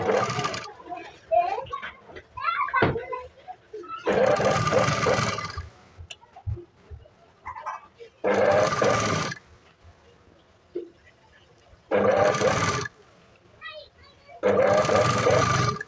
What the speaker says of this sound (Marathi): आता सेम प्रोसेस आपले हा फोल्ड आपला असा करायचा आणि एकदम कडेकडेवर शिलाई टाकायची.